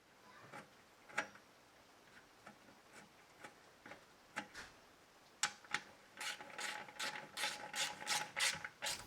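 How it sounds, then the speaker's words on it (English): A steel bolt tightened into an aluminum Weber Q gas grill housing, a series of faint close ratcheting clicks and light metallic ticks, sparse at first and then quicker and denser toward the end, with no voices. "snug this bolt down firmly because you have to remember it's steel going into an aluminum housing"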